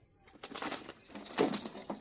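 A few brief bursts of pigeon wing flapping, fluttering nearby, against a quiet background.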